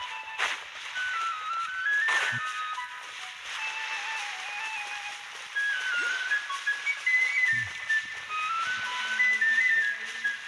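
Whistled melody in the Genshin Impact game soundtrack during Navia's story quest, a bright tune weaving through the music at steady loudness for about ten seconds, with no talking over it.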